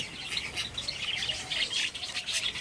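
Java sparrows in a breeding colony give a dense, overlapping chorus of high chirps and tweets that runs steadily throughout at a fairly faint level, with no talking.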